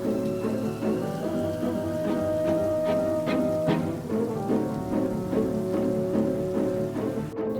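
Heavy rain pours steadily in a night fight scene from a John Wick film, a dense, loud hiss with rumbling score and occasional impacts beneath it, no voices.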